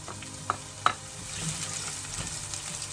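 Onions going into hot oil for an egusi stew, frying with a close crackling sizzle, two sharp clinks of a utensil near the start and soft stirring after.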